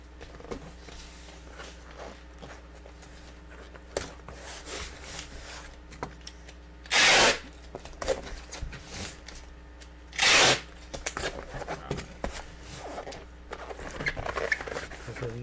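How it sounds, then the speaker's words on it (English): Packing tape pulled off the roll while shipping orders gives two loud, harsh ripping screeches of about half a second each, standing out over quiet rustling and handling of boxes. "sorry about the tape noise"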